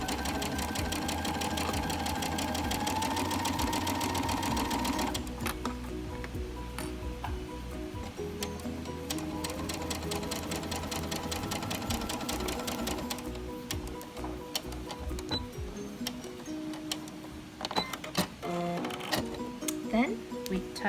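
A sewing machine runs a long joining seam at a 3 millimetre stitch length, a steady close mechanical whirr that pauses briefly and resumes, with a voice talking over it.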